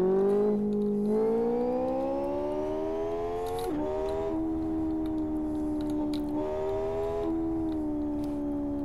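A motorcycle engine in the racing game Live for Speed revs steadily in a continuous tonal drone, with pitch climbing and dipping through several gear-like shifts, loud and close with no talk.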